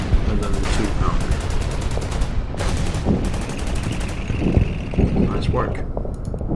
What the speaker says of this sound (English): Just hit it with artillery first. Then the tank, and then the 2-pounder.